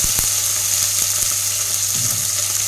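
Tomato frying in a pan gives a loud, steady hiss of sizzling oil, with a few faint clinks and taps from a utensil.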